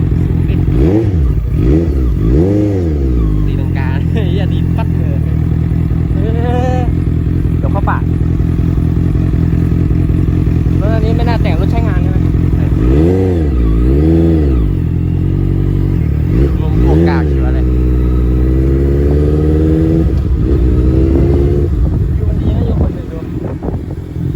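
A Honda CBR650F motorcycle ridden at an easy pace, its engine note rising and falling through repeated revs over steady wind rush, with people talking over it throughout.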